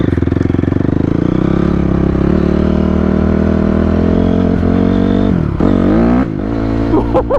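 A Honda CRF250R four-stroke dirt bike engine revs loud and close, holding a steady high drone before dropping and rising again in sharp throttle blips near the end.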